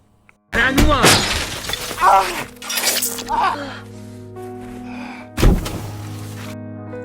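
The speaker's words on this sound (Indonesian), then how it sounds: "mulai memecahkan kaca pesawat sehingga membuat kakinya terluka" Aircraft window glass is smashed loudly with sharp shattering crashes and heavy thuds, followed by tinkling fragments, then another forceful strike.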